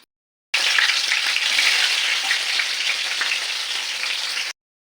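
Carrots, onions and tomatoes fry in a pan for vegetable palav, a steady dense sizzle that starts abruptly, holds loud and even for about four seconds, then cuts off; no talking.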